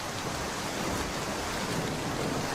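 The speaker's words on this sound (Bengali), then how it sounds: "কিন্তু এই বৃষ্টির শব্দ কি সবার কাছেই ছন্দের মতো শোনায়?" Cartoon rain falling in a steady, even hiss of dense downpour, moderately loud and alone with no voices.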